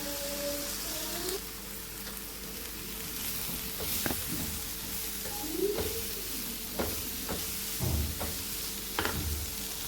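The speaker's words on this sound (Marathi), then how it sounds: "आता ही भाजी आपण यामध्ये घालत आहोत आणि भाजी व्यवस्थित आपल्याला यामध्ये मिक्स करून घ्यायची आहे।" Washed leafy greens, chawli leaves with their stems, get tossed into a hot pan, making a continuous sizzle and hiss broken by repeated spatula scrapes and knocks, close and fairly even throughout.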